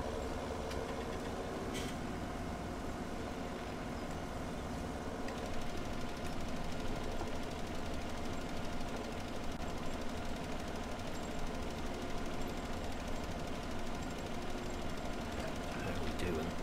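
Tractor engine in Farming Simulator 17 on the Goldcrest Valley map, a steady low mechanical drone that runs unbroken and evenly loud from start to finish.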